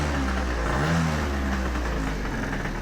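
A Yamaha Zuma scooter engine runs steadily just under 2,000 RPM, a close, even mechanical drone with a low throb that holds constant throughout, with no voices.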